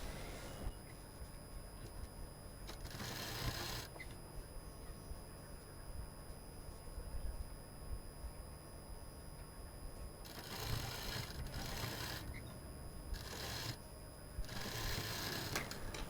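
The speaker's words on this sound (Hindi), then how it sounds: "बस इसका जो ऊपर वाला हिस्सा है इसको हम यहाँ पर सिलेंगे।" A sewing machine stitches the upper part of a cloth piece, its motor whirring in several bursts of a few seconds each, separated by quieter pauses and light handling, faint and close with no talking.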